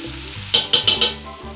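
Potatoes, carrots and peppers fry with paprika, ginger and turmeric for a vegetarian tajine, heard as four quick scraping stirs of a spoon in the pan over a low background hum, close and brief.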